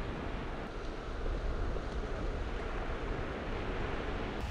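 Rolling ocean surf breaks along a shore where a white-phase reddish egret fishes, a steady, even roar of moving water with a faint windy rush and no distinct individual wave crashes.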